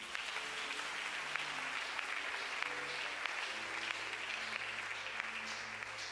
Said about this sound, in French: Quelqu'un peut acclamer?